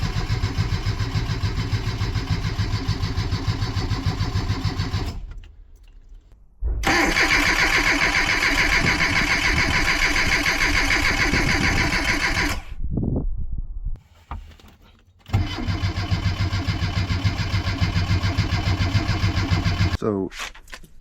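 A car engine cranks repeatedly without catching, its rotor missing from the distributor, in three long loud stretches of steady starter grinding separated by brief pauses, close up.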